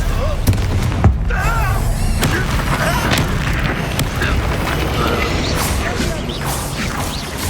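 Confringo fire spell exploding in Hogwarts Legacy combat, loud booming blasts and crashes layered over dense game action with voices speaking.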